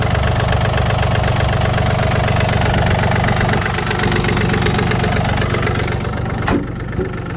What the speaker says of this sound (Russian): Чтобы показать трехцилиндровый наш двигатель, работает он ровненько.